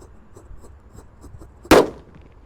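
A red Disco Happy Flower firework set off in a hole in the ground lets out one sharp, loud burst, which fades out quickly. Soft background clatter comes before the burst.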